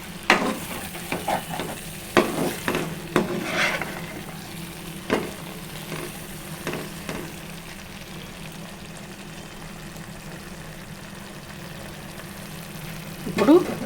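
Stuffed eggplant curry sizzles in a pan while a spoon stirs it, several scraping strokes early over constant frying, then a quieter steady sizzle before a final scrape.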